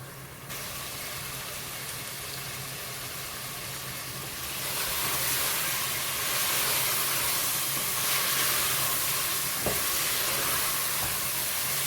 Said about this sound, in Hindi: अभी इसको अच्छी तरह हम 10 मिनट तक भूनेंगे